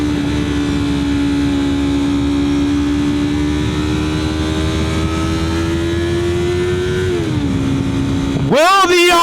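A Yamaha YZF-R3 motorcycle cruises on a highway at night, its engine holding a steady drone that climbs slowly, then drops and revs sharply up and down near the end, with loud wind rush throughout.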